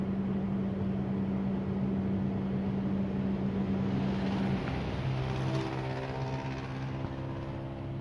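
Fuso 6M70 truck diesel engine with a low-power fault, held at full throttle, a loud steady droning hum that shifts pitch partway through and runs continuously, with no talking.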